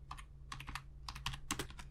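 Typing on a computer keyboard while entering a footnote in Microsoft Word, quick clusters of close, crisp key clicks in uneven bursts over a faint steady hum.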